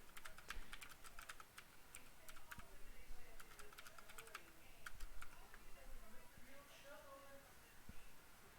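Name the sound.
typing on a computer keyboard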